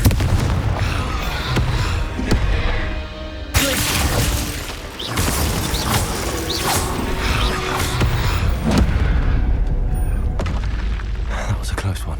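Confringo explosive spell blasts in Hogwarts Legacy, loud booming impacts with whooshes and crashing debris during a busy magical fight, with a voice speaking over the action.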